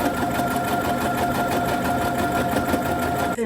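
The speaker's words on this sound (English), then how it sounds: "Once that is done, I am going to sew that down." Sewing machine stitching satin-like fabric for a slip dress, a steady fast mechanical whir and rapid needle chatter running close and loud throughout, stopping abruptly at the end.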